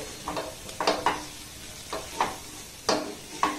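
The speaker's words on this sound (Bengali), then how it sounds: "এইভাবে এটাকে কিন্তু নাড়াচাড়া করতে করতে দেখবেন একটু টাইট হয়ে যাবে।" A mixture being stirred in a pan over a low gas flame: irregular scraping strokes of a spoon against the pan, close and fairly crisp, over a faint background hiss, with no voices.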